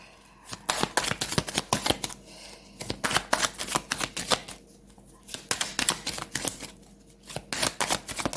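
Tarot cards being shuffled close up, repeated bursts of riffling and slapping separated by short pauses, with no voices over them.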